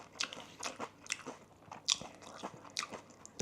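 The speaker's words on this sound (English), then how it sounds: "it helps to have a bit of crunchiness to the noodles" Crunchy condiments and Khao Soi curry noodles from a 7-11 being bitten and chewed close up, with a series of sharp crunches and smacking mouth sounds spread irregularly over a few seconds, no talking.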